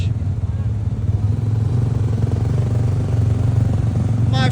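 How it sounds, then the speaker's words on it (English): A very loud motorcycle at a sound check runs steadily up close, a deep continuous engine drone with a rough, clattering edge, while people talk excitedly over it. "That's one of the loudest bikes I've heard today."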